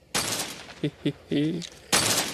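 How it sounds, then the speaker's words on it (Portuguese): Gunfire in The Walking Zombie 2 zombie shooter: two loud bursts of shots, one at the start and one near the end, with short voiced game sounds in the gap between them. "Tiro no coco de zumbi."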